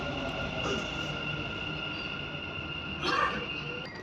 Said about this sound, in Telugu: ఇక్కడ మన మెట్రో ట్రైన్ అయితే వచ్చేసింది.